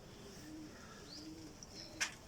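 Laakhe pigeon cooing softly in a low, murmuring rumble, close by, with a brief sharp chirp near the end and no voices.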